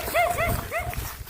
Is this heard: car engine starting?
no